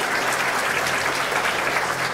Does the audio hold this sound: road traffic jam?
no